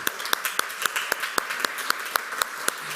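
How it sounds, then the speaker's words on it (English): Audience applause at a Freedom Week and Emancipation Day program, a thin, steady run of distinct hand claps at an even rhythm, moderately faint, with no voices over it. "Those young ladies deserve another round of applause."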